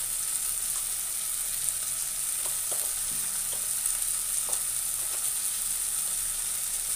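Masala with turmeric frying in a pan for an arbi leaf sabzi, a loud continuous sizzle with occasional faint clicks of a spoon, no voices.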